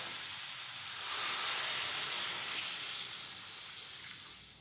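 Water poured into a pan of frying moong dal, a soft steady sizzle and hiss of steam that swells and fades, fairly quiet with no voices.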